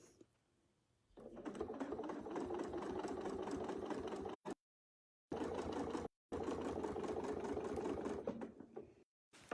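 A quilting machine stitching quickly along a Westalee Design Mini Multi Arc ruler template, a close, steady mechanical hum with a rapid needle rhythm, running in three bursts separated by short pauses, with no talking.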